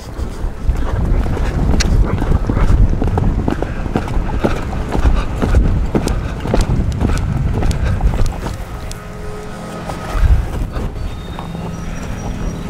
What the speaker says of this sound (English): So let's see if I can gallop him off.